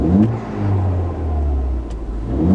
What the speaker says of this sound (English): as soon as you rev it, it'll rev up and it'll dump and then it'll flutter all the way back down to idle